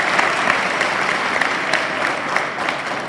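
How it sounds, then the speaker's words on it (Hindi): Audience applause at a poetry recitation event at a college in Asind: loud, steady clapping from a gathered crowd, continuous and uniform throughout the short stretch. "एक बार उनके लिए भी तालियां होनी चाहिए।"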